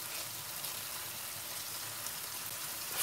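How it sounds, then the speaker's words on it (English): Steady sizzling and crackling of ginger garlic paste frying in hot oil for a black pepper curry, a continuous hiss with faint pops, fairly quiet and without voices. "You hear that sort of crackling and sizzling."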